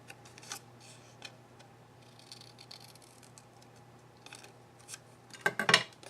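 Scissors snip out a paper piece for a handmade card, with a few faint scattered cuts over a low steady hum and a louder, closer run of snips at the end.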